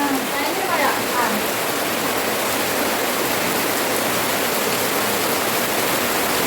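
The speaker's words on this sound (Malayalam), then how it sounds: "ഭയങ്കര മഴ." Heavy rain pours down in a dense, steady hiss that stays loud and unbroken throughout, with a faint trace of a voice near the start.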